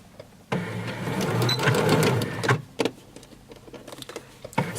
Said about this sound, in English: So keep going and just going straight off the fabric, lift the presser foot, take it off